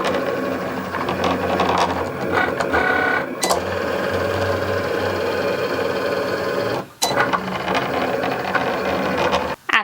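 Cricut cutting machine slicing dry erase vinyl labels on the vinyl setting, a steady whirring and clicking mechanical drone with carriage movements, loud and close, briefly dropping out twice before resuming.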